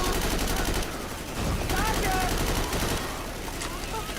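Rifle gunshots in a video game crack out in bursts, with loud broadband blasts clustered across the clip beneath ongoing game noise and some voices.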